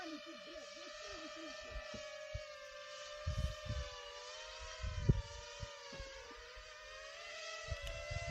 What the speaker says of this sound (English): We hear the sound of the drone whining in and hitting and exploding.